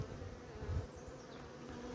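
Bees buzzing close by at a beehive nucleus colony, a dense, steady insect hum with a brief louder swell as one passes near.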